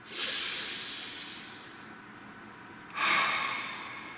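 Two slow, deep breaths during a calm meditation, each a soft airy inhale-exhale close to the mic, the second starting around the three-second mark and slightly stronger, with near silence between them.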